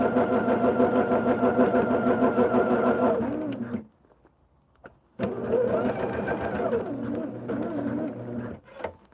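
A sewing machine stitching a quilt block, a loud, close, rapid mechanical whir that runs steadily, stops briefly for a near-silent pause with faint clicks, then starts up again.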